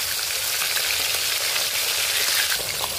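Sorputi fish fries in hot oil in a pan, giving a dense, continuous sizzle that stays loud and even throughout, with no voices.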